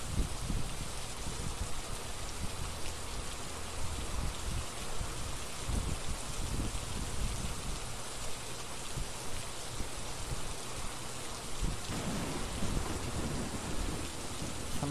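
Heavy rain pours steadily in a Phasmophobia thunderstorm, a dense, loud hiss that never lets up, with low thunder rumbling beneath it and no voices.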